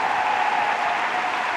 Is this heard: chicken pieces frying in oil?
no